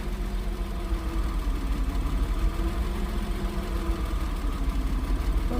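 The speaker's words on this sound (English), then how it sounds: "Well, she's still rough idling a little bit." A Porsche engine idles roughly, a low steady rumble with a slightly uneven pulsing beat heard close and continuous, with no one talking over it.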